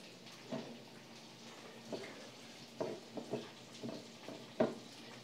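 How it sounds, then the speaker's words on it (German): Soft, steady sizzling of mini chicken nuggets frying in oil, with faint crackles and pops scattered throughout, no voices. "Währenddessen höre ich schon brutzeln."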